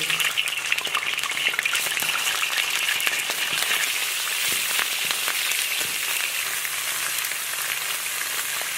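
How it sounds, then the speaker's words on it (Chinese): Steady crackling and sizzling of chicken legs frying in hot oil in a pan, continuous throughout with no voices. "把扣干水分的鸡腿上锅再煎一下，锅里倒点油，下入鸡腿"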